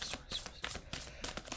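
Tarot cards shuffled by hand in a steady series of quick riffling bursts, close and fairly loud, with no talking.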